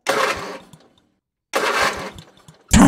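A voice imitates a car engine starting, two sputtering cranking bursts separated by a pause, then a third burst begins at the end.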